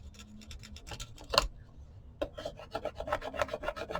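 Paper being burnished onto a wooden paper-weight collage gives a dry, raspy rubbing with rapid repeated strokes that pick up in pace, close and fairly quiet, with one sharp tap early on.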